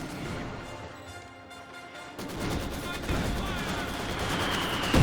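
Machine gun fire from a German MG42 in the Company of Heroes 2 strategy game, a dense crackle of battle gunfire that swells louder midway and stays busy to the end, with other combat noise mixed in.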